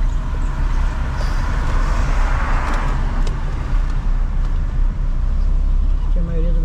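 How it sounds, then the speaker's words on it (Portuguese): Car traffic fills a street in Camboriú on a hot day, a loud, continuous close rumble of passing vehicles with muffled voices underneath. "Porque tem muito carro aqui."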